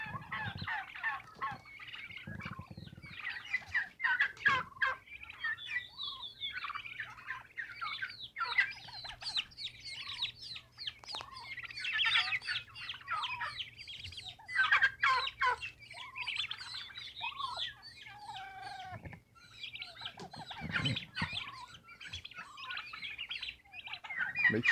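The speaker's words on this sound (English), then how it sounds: "we have our mean hen fighting with a pack of babies through the fence" A hen turkey squabbles through a fence with a group of turkey poults, a dense, continuous run of chirps, peeps and gobbling calls that stays close and busy throughout, with no talking.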